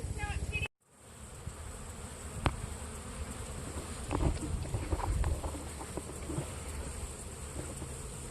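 Honeybees flying around hives in a southern apiary before a hurricane, a steady dense buzzing drone after a brief cut at the start, with scattered louder passes close to the microphone and a few clunks.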